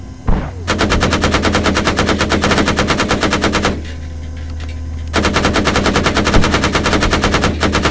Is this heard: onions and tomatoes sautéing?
no